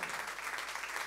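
An audience at a conference gives a faint, brief burst of applause, a steady patter of clapping heard from a distance.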